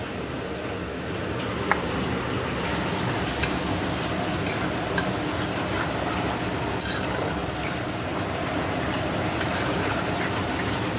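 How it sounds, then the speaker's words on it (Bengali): Spices for ghugni, a Bengali dried-pea curry, are stir-fried in a pan with tempering, a continuous close sizzle and hiss with occasional scraping clicks of the spatula, no talking. "তো মশলাটা ভালো করে কষিয়ে নেবো।"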